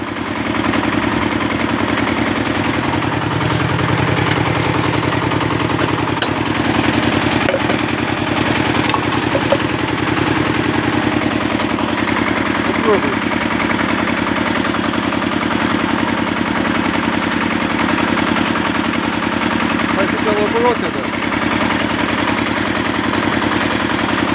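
A steady, loud motorized whine runs continuously, droning for the whole stretch with slight shifts in pitch: a 1.25 kW angle grinder running on a generator built from an asynchronous motor.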